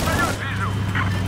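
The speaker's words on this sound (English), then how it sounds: "AA cannon murdered me." A burst of rapid anti-aircraft cannon booms and crackling blasts in Battlefield 4, loud and close, with a brief whistling tone in the mix.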